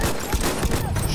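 Rapid bursts of gunfire from a World War I video game battle on the Amiens map, dense and continuous, with overlapping shots and thuds filling the short stretch, no clear voices.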